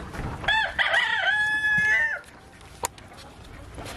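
A rooster crows once, close and loud, a long drawn-out call lasting nearly two seconds, followed by quieter outdoor background with a single sharp knock.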